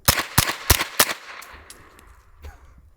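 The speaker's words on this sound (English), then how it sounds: "Let's quiet things down here and see what it feels like. Supersonic." Four sharp, loud shots from a suppressed 9mm pistol caliber carbine firing supersonic rounds, spaced about a third of a second apart, followed by quieter rumbling and a couple of faint clicks.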